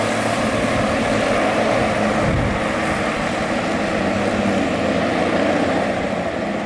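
A Hino RK260 bus engine roars loudly and steadily as the bus passes nearby, with a strong rush of wind and a deep rumble throughout.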